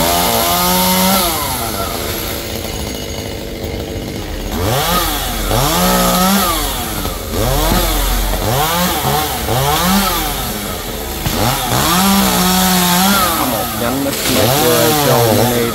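A chainsaw roars nearby cutting down a large kapok tree near power lines, its engine revving up and down in repeated surges as it bites through wood, loud and continuous.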